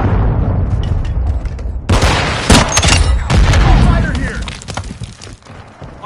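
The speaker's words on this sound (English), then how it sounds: "Friendly cruise missile approaching target." Heavy video game combat: a friendly cruise missile strike lands amid sustained gunfire, with loud booms and overlapping shots throughout, while voices speak over the action.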